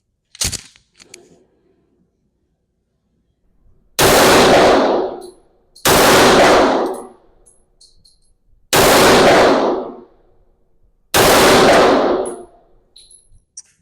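A WWII Nambu machine gun fires four loud automatic bursts, each about a second long with sharp metallic clatter, separated by quiet gaps, plus a brief click near the start.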